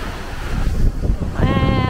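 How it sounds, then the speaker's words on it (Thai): Strong sea waves and gusting wind on Koh Samui on a red-flag day, with loud roaring surf and buffeting wind noise close to the microphone and a brief tonal sound near the end. "คลื่นมันแรงมาก"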